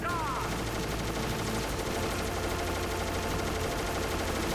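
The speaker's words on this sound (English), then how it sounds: "it's a long strafe run on this one" Helicopter strafing run in Metal Gear Solid, sustained dense gunfire rattling continuously throughout, loud and unbroken, with a steady mechanical roar underneath.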